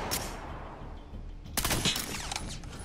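Gunfire from the video game Medal of Honor: Warfighter, with a couple of sharp pistol cracks up close amid a steady background of battle noise and scattered distant shots.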